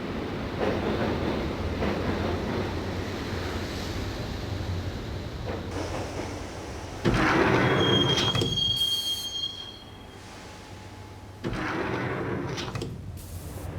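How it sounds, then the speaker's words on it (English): A subway train ride in the game Max Payne rumbles steadily on, wheels squealing and grinding against the rails, with clattering car noise that shifts in loudness partway through. No talking. "the train doors had already shut behind me, and I was in for the ride"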